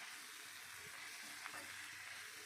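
Peanut chutney ingredients with a pinch of asafoetida sizzle softly in a pan on the stove as they are stirred, a steady quiet frying hiss with faint scrapes and no talking.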